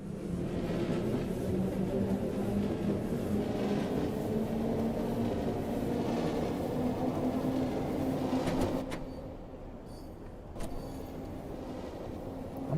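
A London Underground Bakerloo 1938 Stock train runs along the track in the Train Sim World 2 video game, giving a steady motor whine and rumble that drops and quietens near the end.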